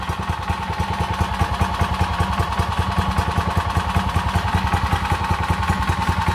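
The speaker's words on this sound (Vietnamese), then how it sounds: "để anh em nghe tiếng máy nổ nha" A used Japanese Honda water pump engine runs at a steady idle, its close, even putter pulsing with rapid regular firing and light mechanical clatter.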